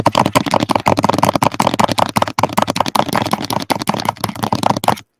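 Very fast, continuous clatter of keys on a keyboard, dense rapid clicks close and loud for about five seconds with no pauses and no talk.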